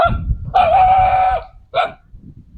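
A dog barks outdoors among tall grass on a farm where bananas are harvested, one drawn-out howling bark followed by a short second yelp, loud and close.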